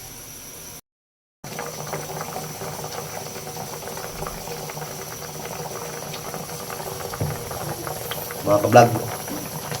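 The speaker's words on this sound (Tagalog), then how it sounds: "kumulo na mga ka-vlog" Water boils in a cooking pot, a steady low bubbling and hiss, with a voice speaking over it near the end.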